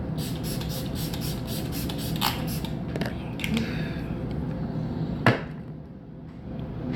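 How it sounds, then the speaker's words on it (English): Smashbox primer water is misted onto a face in a series of quick, soft spray bursts up close, followed by quieter rustling and a sharp tap. "I'm going to hit it up with this Smashbox primer water"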